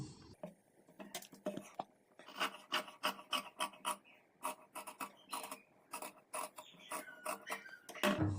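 Blouse lining fabric is cut along a marked neckline, heard up close as a rapid run of rasping, crunching snips and scrapes in irregular bursts, with no talking.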